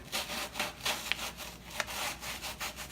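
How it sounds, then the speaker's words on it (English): Fine sandpaper rubbing back and forth over a surface during whitetail deer taxidermy work, a steady rhythmic scratchy swish with a few faint clicks, close and fairly quiet with no voices. "come back and just smooth it out a little bit with some fine sandpaper"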